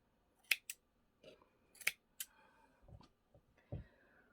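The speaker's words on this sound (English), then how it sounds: "Now, I'm going to go through and cut all my loops that I left." Scissors snipping leftover yarn loops on a finished weaving, several crisp close cuts in quick pairs with small handling noises between them and no talking.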